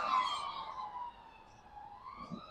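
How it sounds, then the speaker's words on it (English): A wailing emergency siren, police car or ambulance, on a London street, sweeping up and down in pitch and heard from a moderate distance over faint traffic rumble. "all I've heard as I've been walking along anyway is ambulances, police cars"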